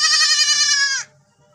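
A goat of the Senduro or Jawa Randu breed on a breeding farm gives one loud, close, quavering bleat lasting about a second, then stops, with faint background noise after.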